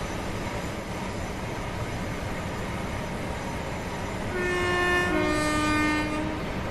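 A Class 805 Evero train in the Train Sim World 6 game sounds a loud two-tone horn over a steady rumble of the moving train, with the horn blasting for a couple of seconds.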